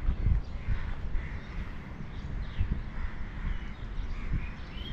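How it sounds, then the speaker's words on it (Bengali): A flock of crows caws from around a building rooftop near a market by the water in Rangamati, repeated calls at moderate distance over steady outdoor background noise. "এদিকে কাকের সভা হচ্ছে।"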